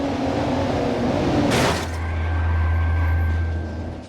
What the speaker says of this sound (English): the actual car audio is just kind of standard